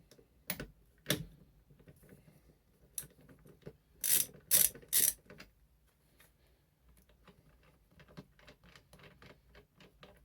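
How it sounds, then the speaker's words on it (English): A ratchet with a 16mm socket works the steering wheel bolt on a BMW E46, giving sharp close clicks in short bursts, several louder clatters midway, then a run of quick lighter ratcheting ticks, with no talk. "Now we just need to remove this bolt with a 16mm socket."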